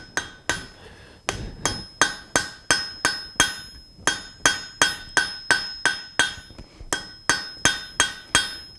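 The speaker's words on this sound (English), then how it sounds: "You can see this time I am using a bigger hammer" A hammer strikes an anvil while a shovel is forged, giving a long run of sharp, ringing metallic taps in a steady rhythm, close and loud, with a brief pause partway through.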